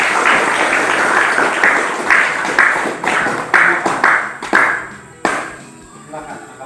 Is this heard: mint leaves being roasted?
no